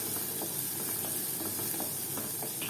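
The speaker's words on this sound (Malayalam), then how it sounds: "ഇനി നേരത്തെ മാറ്റി വെച്ച ഒരു മുറി ഉള്ളി ചെറുതായി അരിഞ്ഞത് ഇതിലേക്ക് ഇട്ട് കൊടുക്കാം. എന്നിട്ട് ഇതൊന്ന് വഴറ്റിയെടുക്കണം." Chopped onion sautéing in melted butter in a pan for butter chicken, a steady close sizzle and hiss throughout with faint stirring scrapes, no voices.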